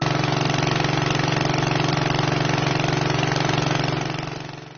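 Motor pumps droning continuously to drain floodwater from homes in lakeside neighbourhoods, a loud, steady, close engine hum with a faint fade at the end.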